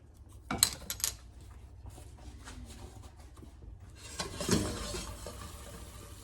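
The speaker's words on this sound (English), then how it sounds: "I just want to get that stirred in there well" Salt and vanilla stirred into homemade chewy caramel in a pot, soft scraping and a couple of sharp utensil clinks against the pot, close and fairly quiet.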